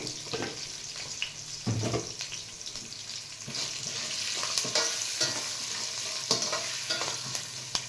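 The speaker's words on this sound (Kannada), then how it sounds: "ಈಗ ಎಣ್ಣೆಗೆನೆ ನಾನು ಅರ್ಶಿನದ ಪುಡಿನ ಹಾಕ್ತಾಯಿದ್ದೀನಿ." Turmeric powder fries in hot oil for a ginger-lemon chitranna rice, a soft steady sizzle with repeated spoon scrapes and knocks against the pan, fairly quiet and close.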